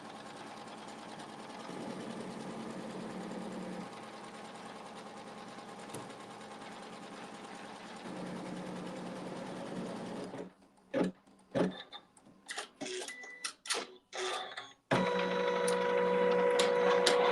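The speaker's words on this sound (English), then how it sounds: "hit the start button, and it's going to sew just a basting stitch around the perimeter" A sewing machine runs a basting stitch around the perimeter of a quilt block, a steady rapid needle hum for about ten seconds, then short stop-start bursts, and resuming steadily at the end; close and clear with no talk.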